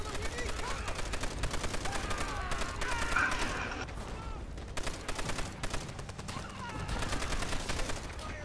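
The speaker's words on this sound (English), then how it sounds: "the machine gun tower's back up" A machine gun tower firing in the World War II shooter World at War, dense sustained automatic gunfire with bursts of other shots, loud and continuous across the whole stretch, with voices talking over it.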